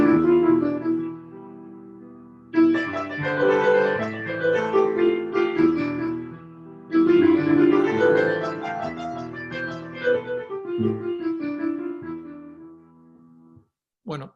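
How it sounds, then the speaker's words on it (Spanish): Solo instrumental improvisation in the Dorian mode: a near, clear melodic line of separate notes over sustained tones, played in phrases with short breaks and trailing off at the end, with no voice. "yo les voy a tocar la escala del modo dórico. Y voy a improvisar cómo sonaría algo tocando en esa escala."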